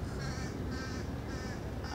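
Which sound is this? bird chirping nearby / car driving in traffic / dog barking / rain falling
bird chirping nearby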